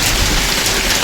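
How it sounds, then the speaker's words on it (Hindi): Heavy rain mixed with large hailstones pounds steadily and loudly in the mountain town of Nandprayag on the Kedarnath–Badrinath route, a dense continuous roar with no voices. "काफ़ी तेज़ बारिश, साथ में ओले बहुत तेज़ी से गिर रहे हैं।"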